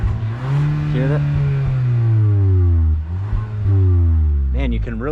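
A 2021 Lexus LS 500 F Sport engine drops smoothly back down through the revs, its deep tone falling steadily, then briefly rises and settles again, loud and close.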